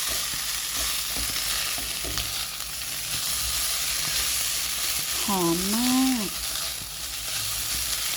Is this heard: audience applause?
no